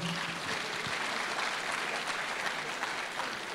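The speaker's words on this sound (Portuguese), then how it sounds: "Palmas para o Jorge Caldeira." Audience applause closing a lecture at a governance conference, a dense, steady wash of many hands clapping from start to finish, loud and sustained with no talk over it.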